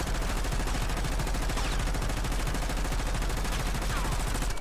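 Rapid automatic gunfire from a weapon on the Black Ops 6 firing range in a video game, a continuous dense burst of shots held at steady loudness for several seconds.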